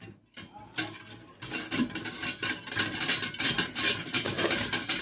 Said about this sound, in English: You really need to whisk it.